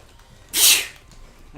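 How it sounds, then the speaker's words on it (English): A person lets out one sharp, close sneeze, a brief loud burst of breath that rises out of near silence and fades quickly. "I sneezed."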